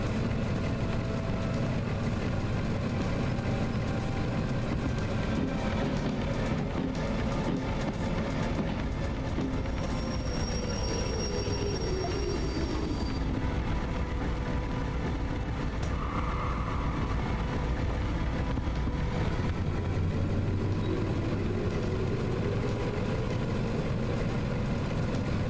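ST44 diesel locomotive in the train game Derail Valley, a continuous heavy engine drone with rail clatter and a rising, falling horn-like tone, steady and close throughout with no talking.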